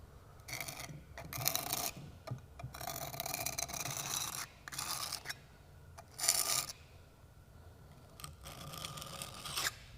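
A putty knife rasps in repeated strokes across concrete, raking excess patch compound off a filled crack; close, gritty scrapes come in uneven bursts separated by short pauses.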